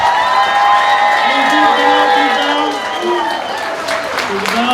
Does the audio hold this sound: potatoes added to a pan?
no